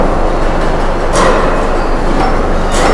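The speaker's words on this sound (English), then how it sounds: "This hydraulic punch station is to make the gaps." A hydraulic punch station on a shelf panel roll forming machine runs loud and steady in a factory, with a constant mechanical roar and a couple of brief sharper bursts.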